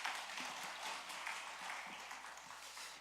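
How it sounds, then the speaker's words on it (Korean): A church congregation at a Wednesday worship service applauds after a prayer, soft, steady clapping heard faintly from a distance at an even level throughout. "크게 박수하시겠습니다."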